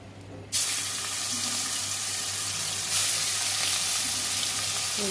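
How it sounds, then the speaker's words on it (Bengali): Fish rubbed with salt and turmeric frying in mustard oil in a wok: a steady broadband hiss that jumps in suddenly after a quiet start, continuous and close, with a slight surge near the middle and no talking. "মাছগুলো আমি ভেজে নেব"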